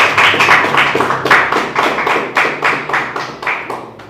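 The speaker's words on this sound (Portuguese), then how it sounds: "Pode aplaudir ao Senhor Jesus." Congregation in a church clapping in a fast, steady rhythm, loud and close, the beats evenly spaced and sustained throughout with no talking.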